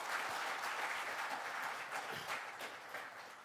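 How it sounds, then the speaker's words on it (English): Steady applause from an audience at a Platinum Jubilee celebration at CSIR-CGCRI, a dense wash of clapping that holds through and fades slightly at the end. "Please give a big round of applause for them."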